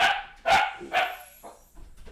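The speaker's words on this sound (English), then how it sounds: "That's my dog." A dog barks three times in quick succession, close and sharp, with a softer fourth yip trailing after.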